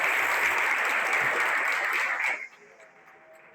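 A church congregation applauds in a dense, steady burst of clapping that fills the room for about two seconds, then cuts off abruptly, leaving a faint quiet hall.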